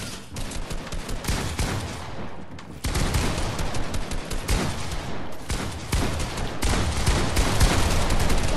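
Rapid automatic gunfire from the Fortnite video game rattles in dense continuous bursts, loud and near, with a short lull partway through and no talking.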